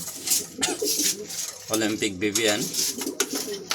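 A male racing pigeon coos nearby in a loft, soft throaty rolling calls, with other background noise and faint voices around it.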